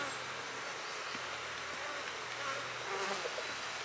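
Honey bees from an opened hive during colony splitting fill the air with a steady, dense buzz, many insects swarming close around without pause, no speech.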